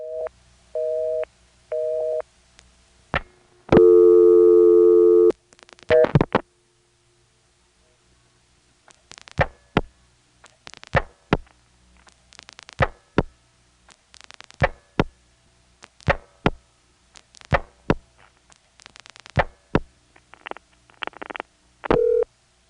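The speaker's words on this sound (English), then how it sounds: "When the time hangs up, my phone makes quite a relay clang" A landline telephone on an old mechanical exchange in Commerce, Georgia, after a time-of-day line hangs up: a steady busy-type tone, then a long train of sharp relay clicks and clangs in irregular bursts, close and alone.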